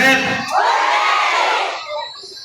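A crowd of supporters shouts and cheers at an election rally in the Philippines. The massed voices swell into one loud sustained roar, then fade out.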